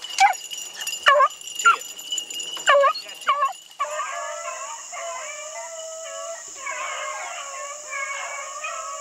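Hunting dogs howl and yip in the woods during a bow hunt, a few sharp wavering cries first, then several drawn-out overlapping howls carrying steadily from a moderate distance.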